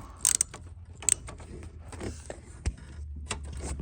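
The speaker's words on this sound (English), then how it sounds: "Take your 10 millimeter, tighten it back up." A bolt on an EZGO golf cart is tightened with a 10 mm wrench. A few sharp metallic clicks and scrapes come close up over a quiet background, with some light mechanical creaks between them.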